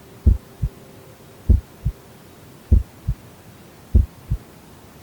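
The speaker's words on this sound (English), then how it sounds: "the room quiet now except for the soft echo of her heartbeat" Soft, echoing heartbeat in a quiet room: four evenly spaced lub-dub pairs of low, muffled thumps, close and steady, with no other sound around them.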